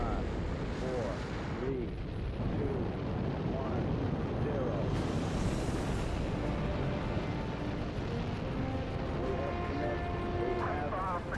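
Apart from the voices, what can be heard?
rocket engines igniting and roaring at liftoff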